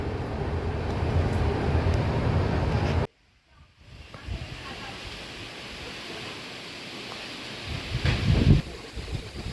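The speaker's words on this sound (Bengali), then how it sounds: "সেই হাওয়া ছাড়ছে রে, বৃষ্টি পড়তেছে জেরি জেরি।" Wind gusts with rain falling outdoors make a steady, broad rushing noise that drops out briefly for a moment, then returns and swells again toward the end.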